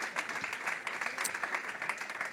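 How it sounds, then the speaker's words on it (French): An audience at a meeting of presidents applauds, a fairly quiet but continuous patter of many hands clapping at a moderate distance, with no speech on top. "Vous pouvez les applaudir."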